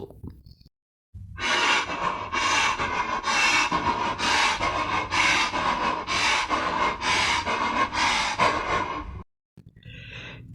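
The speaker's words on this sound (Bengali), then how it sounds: "ঠিক যেন কেউ দেয়ালের ভেতর থেকে শ্বাস নিচ্ছে" Slow, heavy, eerie breathing, as if from someone hidden inside a wall, swells in roughly eight or nine drawn-out loud breaths in a steady rhythm, set apart by short silences at the start and end.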